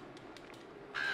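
A crow caws in the video game Uncharted 2, a single harsh call rising near the end over quiet ambient background.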